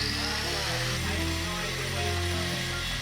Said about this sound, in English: An angle grinder.